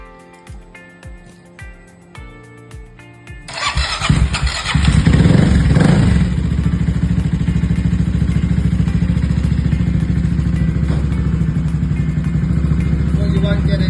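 A CCM SIX motorcycle fitted with a Motogadget upgrade, ticking over quietly, then the engine cranks and fires, rising to a loud, steady, close idle that carries on without any talk.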